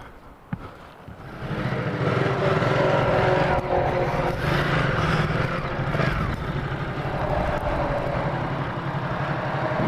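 A Ducati Supersport S motorcycle starts up and rides off, its engine rising from idle into a loud, sustained roar close by that settles into a steady drone.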